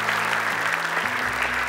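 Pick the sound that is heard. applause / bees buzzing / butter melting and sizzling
applause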